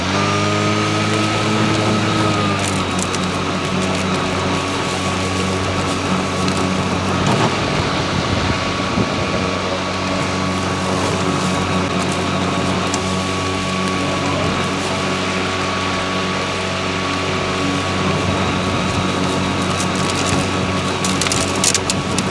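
Stihl RMA510V robotic lawn mower running in eco mode, a continuous motor whir with tonal hum and faint grass-cutting crackle, close and steady throughout with a slight pitch shift early on.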